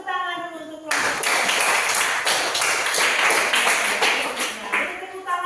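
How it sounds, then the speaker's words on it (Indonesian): Classroom applause for group B: a voice gives way to a sustained burst of dense clapping from many hands for about four seconds, then it fades as voices return. "Beri tepuk tangan dulu untuk kelompok B."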